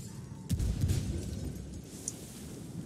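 Frag grenade explosion in the Ghost Recon Wildlands game, a single deep muffled boom with a rumbling tail that fades over a couple of seconds.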